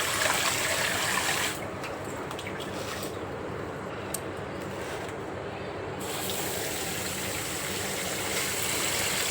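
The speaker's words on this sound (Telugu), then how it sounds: "బియ్యము ఇవన్నీ తెల్లగా వచ్చేదాకా కడిగేసుకొని 4 సార్లు కడిగేసుకున్నాం" Rice being washed in water for dosa batter gives a continuous close sloshing, rushing water sound, slightly quieter in the middle stretch, with no talk.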